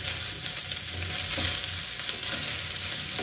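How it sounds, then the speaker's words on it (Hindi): Boiled rice is stir-fried with vegetables in a pan for egg fried rice, a dense, even sizzle and hiss with soft, steady mixing scrapes and a single light tap, close and without talk. "अब इनको मिक्स करेंगे सब्जियों के अंदर"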